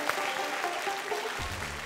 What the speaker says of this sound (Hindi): आपको बहुत सारी तालियां